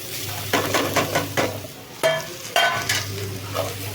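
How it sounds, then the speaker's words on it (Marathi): Grated coconut dropped into a little hot oil in a pan, sizzling softly while being stirred, with repeated scraping strokes and light clinks at a moderate, uneven rhythm. "थोडासा आता तेल टाकला आपण आता त्याच्यात आपण खोबरं टाकूया म्हणजे खोबरा खाली चिकटणार नाही"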